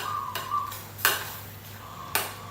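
A utensil scraping and clinking against a pot as sago balls are stirred into boiling syrup, with two sharp knocks over a low bubbling background.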